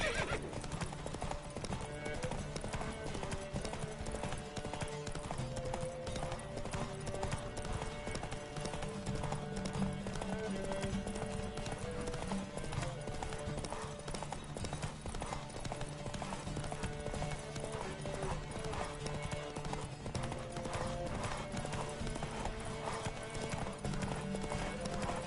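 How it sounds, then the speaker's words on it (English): Horses galloping in the video game The Witcher 3, a steady rapid clip-clop of hooves with occasional neighs over a busy game soundscape, and a voice speaks briefly. "Don't spare the horse!"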